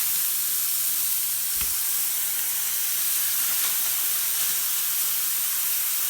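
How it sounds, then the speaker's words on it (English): Hamburger steaks sizzle hard in a hot Lodge 12-inch skillet, a loud, steady, continuous hiss of frying with one brief clunk early on and no talking. "got this Lodge 12-inch skillet heated up, and that's a sizzle, sizzle, sizzle, griddle, griddle, griddle"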